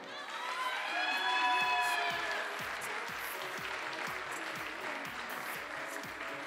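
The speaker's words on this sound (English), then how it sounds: "please give a big round of applause" Spectators in an arena at a European junior air pistol shooting final applaud and cheer for a seventh-place finisher. The announcer's voice rises over the crowd early on, and steady clapping and cheering continue after it.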